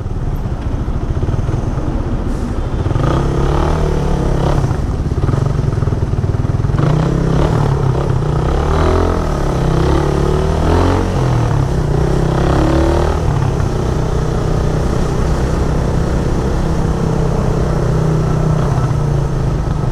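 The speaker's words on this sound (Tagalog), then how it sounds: "Ang traffic talaga." Congested road traffic on Roxas Boulevard during roadworks, with motorcycles and cars idling, revving and pulling away in a continuous loud wash of engine noise and clatter close by.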